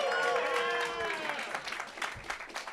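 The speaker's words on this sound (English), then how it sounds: "start clapping right now" An audience at a New York roast battle comedy show claps in a brief burst of applause, heard moderately far off, while a host's voice carries over the start of it.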